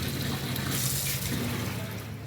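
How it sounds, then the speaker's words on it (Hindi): Water runs steadily from an open tap while someone washes dishes seated at a home sink, a continuous hissing splash at close range with no talking. "पानी खुला है।"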